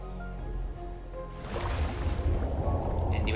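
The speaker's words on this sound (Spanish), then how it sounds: "El nivel del agua sube." Rising water in the video game Shantae and the Seven Sirens, a swelling wash of rushing, surf-like noise building over a low steady rumble, continuous and fairly loud, with a brighter shimmer entering near the end.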